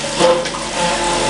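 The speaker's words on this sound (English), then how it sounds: "Coolant." Coolant pours onto a surface grinder in a close, steady rush of splashing liquid with no voices.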